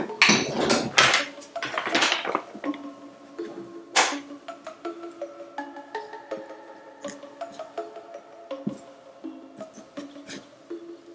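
A knife cuts into a pumpkin being carved, giving a few loud scraping chops followed by a long run of quick, light clicks and clatters, close and dry, with no voices.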